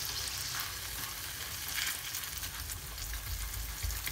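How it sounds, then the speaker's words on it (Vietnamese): Sauce for a chicken avocado salad dressing heats in a pan, giving a steady, close sizzle with faint stirring and no voices. "Lúc ban đầu mình sẽ đun phần nước sốt này để lát nữa mình sẽ làm nước sốt trộn"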